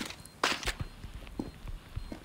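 Footsteps in a Standoff 2 tournament match: soft, quiet steps tap at an irregular pace, with one louder scuff near the start and no voices over them.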